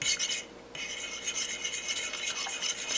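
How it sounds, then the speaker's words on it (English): White cheese is slowly whisked into a melting cheese sauce, a close, steady rapid scraping and swishing of the whisk against the pan with a brief pause partway through. "So just slowly whisking it in between it, kind of let it melt a little bit."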